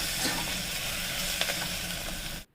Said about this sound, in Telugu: అల్లం వెల్లుల్లి పేస్ట్ వేసుకొని ఫ్రై చేసుకోవాలి